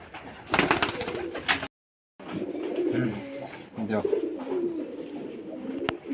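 Giribaj pigeons from Rajshahi coo in low, soft bursts nearby, with wing flutters and scuffling near the start, while someone talks over and between the calls.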